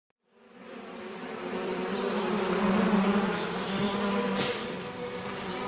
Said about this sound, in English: Hearing buzzing sounds, Bai Ning Bing looked up and saw a terrifying dark cloud made entirely of countless frenzied needle bees heading straight for them